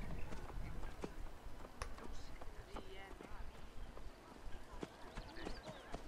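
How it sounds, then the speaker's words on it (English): Steady clip-clop of hooves at a walking pace under background game sounds and music in Assassin's Creed Origins, moderately close. "The way that horse was just walking."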